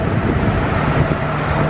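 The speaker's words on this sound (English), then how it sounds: "It's so warm and windy." Strong wind buffets the microphone on the open deck of a fast-moving Disney Dream cruise ship at sea, a steady loud roar with no talk.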